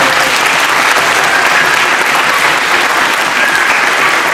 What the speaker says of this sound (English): So one more round of applause for our fourth graders.